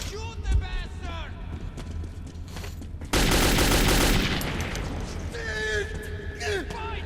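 Gunfire in the shooter game Metro 2033: a heavy burst of automatic fire erupts midway and rolls on loudly, with shouting voices and effects before and after.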